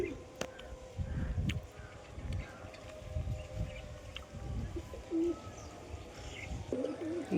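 Soft, low pigeon coos repeat in short bursts against a murmur of background noise, with a few faint chirps scattered through.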